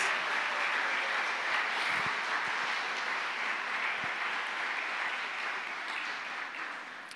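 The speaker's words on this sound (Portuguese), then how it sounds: "Aplauda bem forte ao Senhor" A church congregation applauding during a worship service, a broad, sustained roar of clapping from a large crowd at moderate distance that stays steady and slowly fades toward the end.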